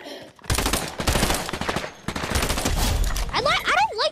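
Burst SMG fire in the Fortnite video game rattles in dense, loud volleys across most of the moment, followed near the end by a rising and falling whistling game effect.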